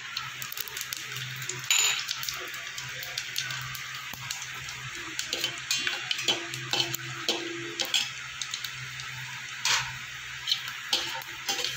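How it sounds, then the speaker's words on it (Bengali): Whole garam masala and cumin seeds fry in hot oil for a Dhaba-style egg masala, a steady soft sizzle with scattered crackles and light clicks of spices and a utensil, no voices. "ফোড়নটা আমার কয়েক সেকেন্ড ভাজা হয়ে গেলে এবার আমি দিয়ে দেবো কুচানো পেঁয়াজ।"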